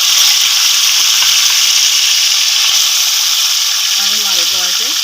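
Boiled keema hits a hot frying pan and hisses in a steady loud sizzle that holds throughout. A voice talks briefly near the end.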